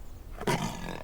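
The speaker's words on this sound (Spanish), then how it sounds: "Oh Dios, es un puma." A short, loud roar from a puma in the video game Everything erupts once and fades quickly over a dim background hum.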